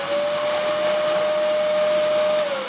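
Electrolux Sanitaire upright vacuum cleaner running with its brush roll off, a loud, steady, close whine with a constant motor pitch and no voices.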